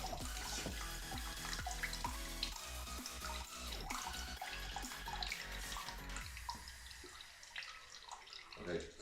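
Dirty water drains out of a pump system, pouring and splashing steadily for several seconds before easing off, with a person talking over it.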